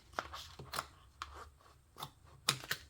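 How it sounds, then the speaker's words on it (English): Scissors snip through a plastic sheet during a sewing craft project, giving about six sharp, close cuts in an uneven rhythm with short quiet gaps between them. "So I'm also going to trim it down from the sides."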